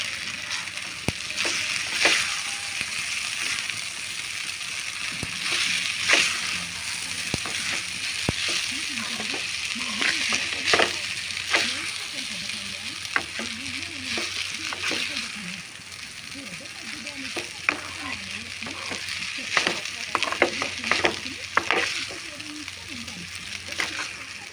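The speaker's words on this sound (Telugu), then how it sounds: "ఇందులోకి మనం తీసుకున్న సేమియా వేసుకుందాం." Vermicelli tipped into a pan and stirred for a village-style egg vermicelli dish, a steady sizzle with scraping and clinking of the spoon against the pan throughout, continuing at an even level.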